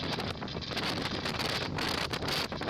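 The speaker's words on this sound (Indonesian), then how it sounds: "Tuh, angin sudah mulai naik." Strong wind roars over a ship at sea in bad weather with rising waves, a loud continuous buffeting rush with gusty surges that batter the microphone.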